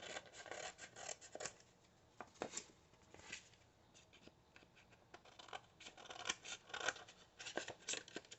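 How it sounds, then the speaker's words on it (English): Scissors trim the edges of a sheet of paper in a series of close, quiet snips and rasping cuts, irregular in rhythm, with no voices. "let me trim the edges of this paper off"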